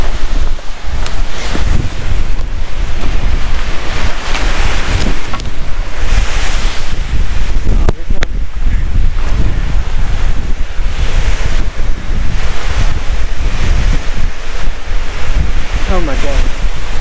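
Strong wind gusts buffet the microphone on Guadalupe Peak during 70-plus mph winds, a continuous loud roaring rumble with surging gusts throughout.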